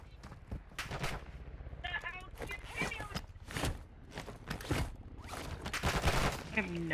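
Rapid bursts of automatic gunfire in Call of Duty DMZ, several loud volleys spread across the clip, with people talking in between and over the shots.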